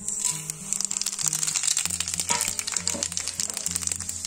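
Shahi jeera and plain cumin seeds sizzle in hot oil in a pan: a steady, bright crackling fizz with small pops that runs unbroken throughout, close and fairly loud, while background music plays underneath.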